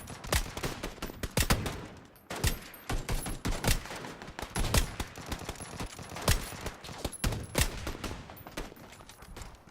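VSS suppressed rifle firing in a video game shooter: repeated bursts of close, crackling shots with short pauses between volleys, continuing throughout.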